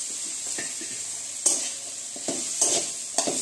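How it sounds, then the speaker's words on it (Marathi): Chutney ingredients being sautéed and stirred in a pan on the stove: a steady soft sizzle of frying with a few sharper scrapes and clinks of the spatula against the pan. "2-3 मिनिटं लागतात परतून घ्यायला"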